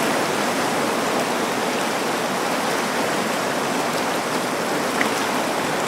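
Ocean waves crashing into a wall along the coast at Naalehu, Hawaii, heard as a continuous broad rushing wash of surf, fairly steady with no talk.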